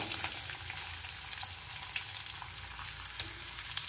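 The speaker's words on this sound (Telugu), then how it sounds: "ఇలాగే డీప్ ఫ్రై అయ్యేలాగా చూసుకోవాలి." Food deep fries in hot oil with a steady, dense crackling sizzle that stays close and even, with no voices.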